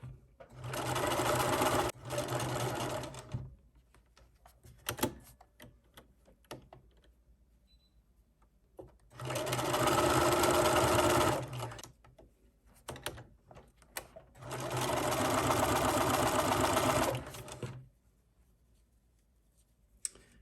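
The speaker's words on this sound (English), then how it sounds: "we've pulled it through, and we're going to stitch over it" A sewing machine stitching over a fabric scrunchie seam, running in three sustained bursts of a few seconds each, close and loud, with quiet handling noises and pauses between runs.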